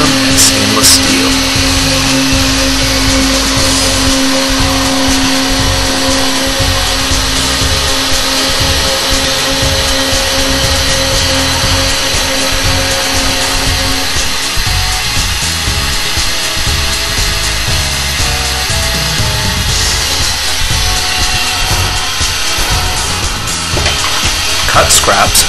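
A CHL2515A circular saw cutter slices through metal stock in an industrial setting, giving a loud, steady grinding whine with a sustained tone that shifts partway through and carries on without a break.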